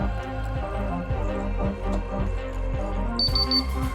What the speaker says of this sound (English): if I remove that gas, we can see the alarm is eliminated